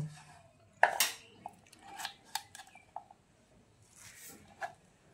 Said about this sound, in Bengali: এবার এই ভেন্ডিগুলোকে আমি ছোট ছোট করে কুচিয়ে নেব